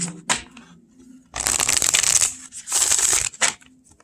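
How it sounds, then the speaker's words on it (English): A deck of Mystical Shaman Oracle Mini cards riffle shuffled up close, two long fluttering bursts of flicking cards separated by brief taps and handling. "Perfect riffle shuffle."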